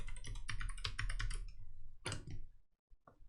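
Password being typed on a computer keyboard: a quick run of close key clicks, then a short pause and a second burst of keystrokes, no talking.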